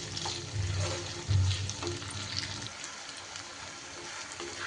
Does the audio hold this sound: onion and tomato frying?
yes